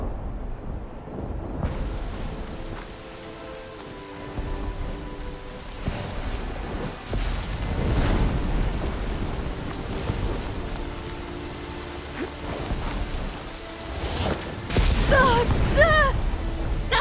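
Steady rain and rolling thunder from a storm in Horizon Forbidden West, rumbling bursts rising over the constant patter, with brief sharp effects near the end.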